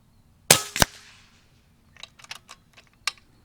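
Two sharp suppressed shots from a Karma Red Panda .30 air rifle, close and snappy with a toy-like pop, followed by faint clicking and clattering of the action.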